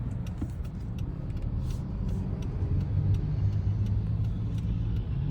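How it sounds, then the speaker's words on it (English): A CTA city bus rolls past on a street, a steady loud low engine rumble and road noise lasting several seconds, growing slightly heavier midway, with no talking. "That was a CTA bus."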